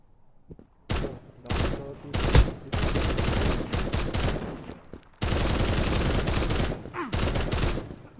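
Gunfire in the online shooter Krunker comes in several loud, close bursts of rapid shots separated by brief pauses, with a longer unbroken stretch of firing near the end.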